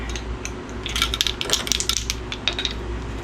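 Dill seed spooned into glass pickling jars, a cluster of small metallic clinks and gritty scraping from a teaspoon against glass, close and busy in the middle, heard alone.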